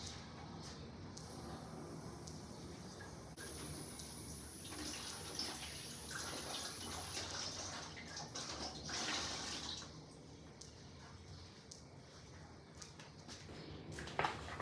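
Food rinsed under a running kitchen tap, a soft continuous stream of water with light splashing and dripping, quiet and steady throughout.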